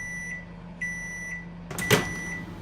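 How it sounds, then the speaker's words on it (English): A video game microwave hums steadily with a high tonal whine, pulsing on and off, then a sharp click or clunk sounds near the end. "So let's stick it in the microwave."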